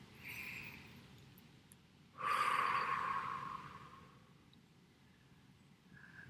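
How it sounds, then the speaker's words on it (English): A single deep breath drawn in and let out slowly, close and fairly soft, rising in the middle and then fading, with quiet room hum around it. "Nice deep breath."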